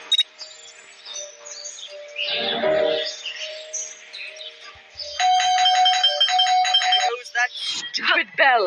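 A chiming electronic bell rings in the Scary Teacher game, a repeated ding-dong melody of bright tones that sounds in two bursts, loud and near, followed by a short sequence of quick, chirpy effects.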